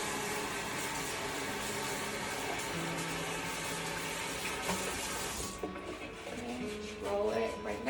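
Tap water runs steadily onto a mop pad being soaked for floor cleaning, a continuous close splashing rush that changes character near the end as the flow shifts.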